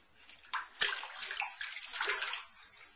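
Water sloshes and splashes in a bathtub as a baby is bathed, soft close-up slaps and swishes in uneven bursts, fairly quiet with no talking.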